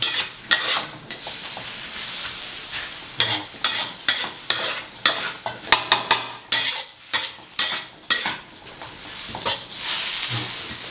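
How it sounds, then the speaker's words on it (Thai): Bitter melon and egg stir-fried in a pan, a steady sizzle broken by repeated sharp scrapes and clatters of a spatula stirring, fairly loud and close, with no talking. "ก็ผัดเข้ากันครับ ไข่มันจะเริ่มสุกแล้วมันจะเริ่มเกาะที่มะระ"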